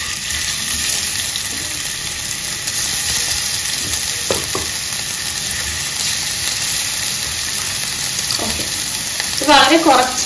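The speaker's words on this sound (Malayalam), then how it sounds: "ഞാൻ ആദ്യം നല്ലെണ്ണ ഒഴിച്ചിട്ട് ചിക്കൻ വറുക്കാൻ പോകും." Chicken pieces fry in sesame oil for a pickle, a loud, continuous sizzle with stirring clatter and a few spatula knocks close by.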